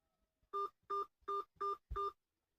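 Five short, evenly spaced keypad beeps sound in quick succession, clear and close, like a 5-digit zip code being entered on a phone for an automated healthcare line.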